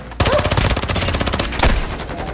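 Loud automatic gunfire from an enemy player in an online shooter game, a rapid burst of closely spaced shots that cuts in abruptly and rattles on for about two seconds.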